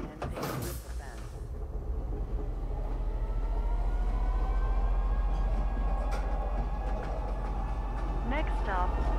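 A Star Citizen video game train rumbles steadily with a deep, continuous mechanical drone and rail hum, while a voice announcement plays over the top.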